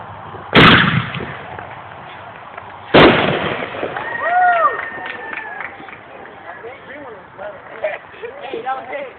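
Backyard fireworks going off at a home gathering: two sharp, loud blasts a few seconds apart, followed by crackling and whistling trails, with people shouting and talking nearby throughout.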